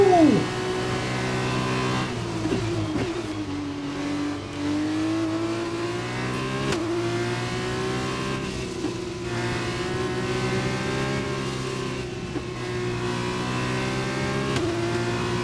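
Formula 1 race car engines in the F1 2021 video game, a loud sustained high-pitched engine whine that rises and falls through gear shifts and revving, playing continuously without talk.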